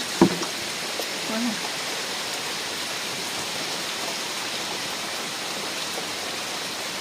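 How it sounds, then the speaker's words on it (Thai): Steady, dense rainfall hisses evenly throughout, a broad wash of noise with a brief knock near the start. "แบบฝนมันกำลังมาค่ะ"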